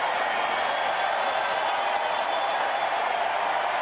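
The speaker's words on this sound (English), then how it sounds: "Crowd again, cheering on the Rangers" Baseball crowd at a Rangers home game against the Angels cheering and applauding, a dense, steady roar of clapping and voices filling the whole stretch with no letup.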